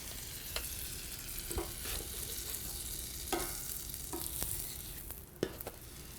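A Korean hotteok, the sweet filled griddle cake, sizzles steadily on a medium-low griddle just after being flipped, with scattered sharp clicks and scrapes of a spatula over the constant hiss.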